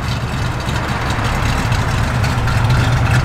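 A 1973 Chevrolet Camaro V8 idles steadily with a loping, uneven cam rhythm, a deep continuous rumble close to the microphone with no talking.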